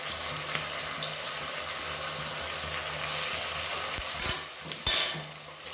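Ginger garlic paste sizzles as it is stirred into softened onions in a pan for kadalai curry: a steady frying hiss with scraping stir strokes, and two louder bursts of sizzle near the end. No one speaks.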